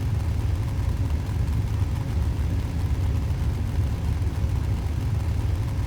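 Ork vehicle engines in a Warhammer 40,000 video game battle rumble in a steady, heavy, close drone with no break and no talk.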